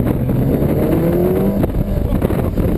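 A golf cart fitted with a swapped-in Hayabusa motorcycle engine accelerates hard on the road, a loud, steady engine roar with a rising whine sustained close by throughout.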